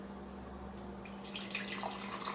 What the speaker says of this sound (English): So you make the date water and then you pour it into your